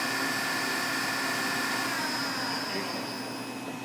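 The spindle of a 1994 Fadal VMC40HT CNC vertical machining center with an 88HS control runs at about 1,000 rpm. It gives a steady, close whine with several constant high tones over a broad hiss, fading a little at the end.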